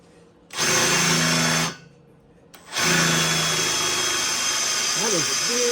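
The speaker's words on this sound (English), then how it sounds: "That is a big drill bit." A power drill fitted with a big cobalt bit bores through slab wood from a portable sawmill pile, two loud sustained whirring bursts separated by a short pause, the second running on steadily.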